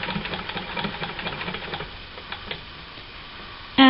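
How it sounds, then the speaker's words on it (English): A vintage sewing machine stitches along a fabric edge with an edge foot, giving a quick, even run of mechanical ticks for about two seconds that then fades to a soft hum, followed by a brief tone at the end. "So now I'll start sewing."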